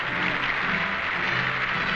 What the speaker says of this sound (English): Stalin and company applaud the Latvian communist delegates.